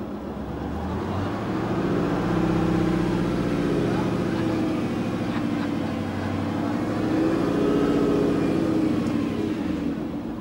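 An experimental safety study car from 1977 runs its engine in a steady, loud, low drone that holds without a break.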